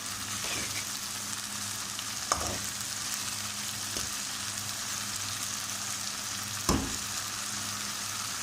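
Multani-style okra sizzles with tomatoes and onions in a pan over a high flame, giving a continuous crackling fry with a few louder stirring knocks.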